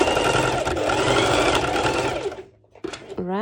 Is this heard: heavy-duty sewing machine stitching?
yes